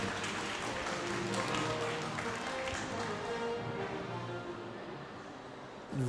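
A forum audience applauds in a broad, steady wash of clapping that holds for several seconds, then thins and fades near the end.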